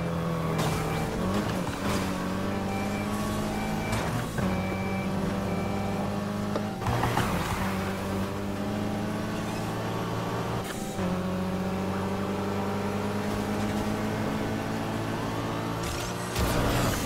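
Engine of a custom Mitsubishi Lancer Evolution X in the Need For Speed Heat racing game during a police pursuit, a loud steady drone with rising and falling gear tones and brief bursts of noise, continuous for the whole stretch.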